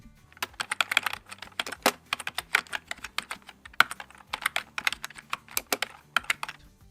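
Typing on a computer keyboard, with rapid, irregular bursts of close, crisp key clicks and short pauses between them, continuing for several seconds alone with no talk.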